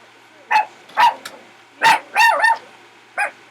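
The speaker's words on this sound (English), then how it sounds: "Who are you barking at?" A dog barks in a handful of sharp, close yaps spaced irregularly over a few seconds, loud against a quiet room.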